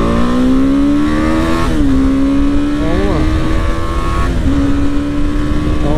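A BMW G310GS motorcycle engine roars at full throttle during a top-speed run, pitch climbing steadily, then dipping briefly at each gear change before rising again; loud and close.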